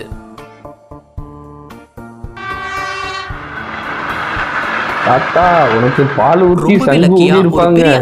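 A train thunders past at close range at a railway level crossing with a loud, sustained rumble and blaring horn blasts, following earlier rhythmic clanking bells.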